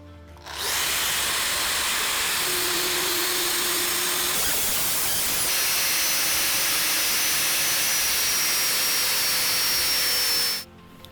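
An angle grinder fitted with a giant turbo fiber disc grinds metal in one continuous loud, harsh roar lasting about ten seconds, then winds down abruptly.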